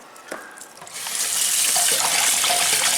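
A kitchen tap runs water steadily over a few cloves of garlic being washed, the flow starting softer and then gushing louder and fuller after about a second, close by with no talking.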